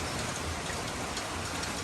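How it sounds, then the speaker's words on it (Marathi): Heavy monsoon rain pours steadily in Pune, a dense unbroken hiss of drops drumming on surfaces, close and loud with no pauses. "तुफानी पावसाने पाऊस थांबत नाही अजिबात"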